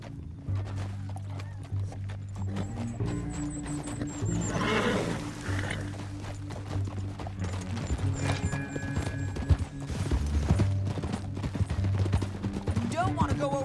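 Horse hooves clip-clopping in Red Dead Redemption 2, a steady rhythmic trot under a low droning musical score, with a brief whinny and voices speaking at moments.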